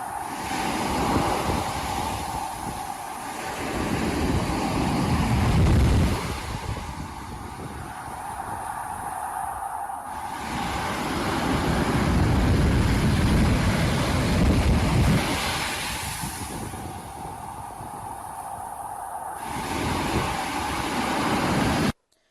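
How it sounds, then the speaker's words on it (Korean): Rough November waves at Gyeongpo beach crash and surge in two long swells, each building to a loud roar then fading, with wind buffeting the microphone throughout. "11월의 파도 소리 들어보세요"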